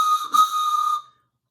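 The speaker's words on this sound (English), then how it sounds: "I even brought my train whistle." A toy train whistle blown once, a bright steady tone with a brief dip partway through, close and loud, then cutting off into silence.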